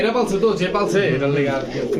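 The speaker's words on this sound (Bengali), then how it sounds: "এটা কিন্তু গোল্লা কবুতর নর" A male Golla pigeon coos in a low, repeated rolling murmur up close, overlapping with someone talking throughout.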